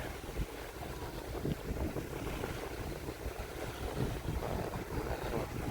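Jet ski engines drone over open water off Kouri Island, Okinawa, with wind buffeting the microphone, a continuous rough rumble that swells and dips without pause.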